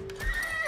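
A horse in the video game Age of Empires IV gives a brief whinny, a short tonal neigh over a soft thud, heard alone and lasting under a second.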